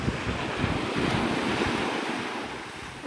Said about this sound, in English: I'm hoping the wind doesn't get too bad. It's starting to get breezy.